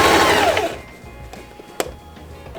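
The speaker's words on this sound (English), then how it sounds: "I'm gonna do a straight stitch really close to the edge right here" A sewing machine runs a straight stitch close to the edge of fabric on a belt bag, a loud burst of whirring at the start that quickly drops away to quiet handling noises and a brief click.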